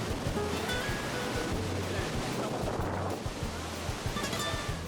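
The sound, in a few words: Iguazu Falls waterfall rushing water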